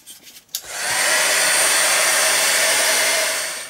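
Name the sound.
dryer drying an art journal page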